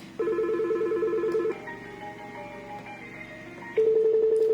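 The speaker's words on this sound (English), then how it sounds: "we have 4 ringtones for this model." Ringtones from an ECG-201 entry-level VoIP desk phone play in short sequences, a pulsing warble shifting to a melody and then a steady higher beep, close and clear.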